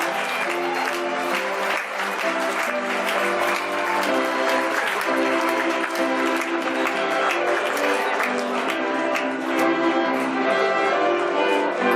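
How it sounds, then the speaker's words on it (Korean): A wedding crowd keeps up a steady, dense round of clapping for the bride and groom, with music carrying on underneath the applause from start to finish. "여러분 다시 한 번 더 신랑 신부를 큰 박수로 축하해 주시기 바랍니다."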